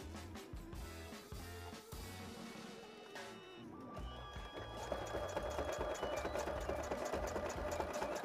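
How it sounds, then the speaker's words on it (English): A sewing machine stitching fabric for homemade photography gear, a fast rhythmic mechanical clatter that pauses briefly and then runs again louder and steadier, close and with no talk. "This stitching doesn't have to be as pretty because no one's ever going to see it."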